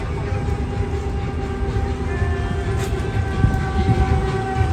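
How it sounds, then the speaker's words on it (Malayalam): A train pulling in at a station at Al Qana, Abu Dhabi, a steady low rumble with faint tonal whine over crowd ambience, moderately loud throughout. "ഒരു ട്രെയിൻ വന്നിട്ടുണ്ട്."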